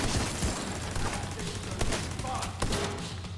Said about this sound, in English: Wait, who's shooting at me